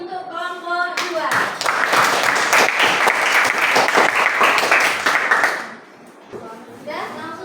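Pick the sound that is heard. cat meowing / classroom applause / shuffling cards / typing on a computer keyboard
classroom applause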